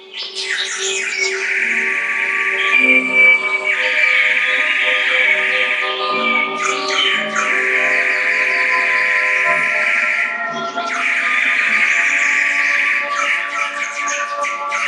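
A nightingale sings in a garden in long, steady trilling phrases with brief pauses between them, loud and continuous throughout, with no voices.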